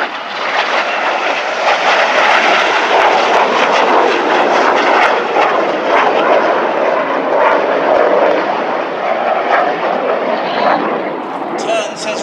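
RAF Red Arrows jets fly at full power over Epsom College during an air display, a loud, continuous roar that is broad and steady as the aircraft turn away, with spectators talking underneath.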